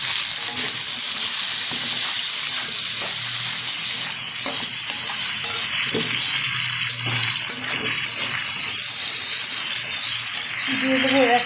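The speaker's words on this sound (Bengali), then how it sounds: "একসাথে ভেজে নেবো আমি টমেটোর আলুটা।" Potato pieces and tomato fry in hot oil in a pan, giving a continuous loud sizzle with occasional stirring scrapes throughout.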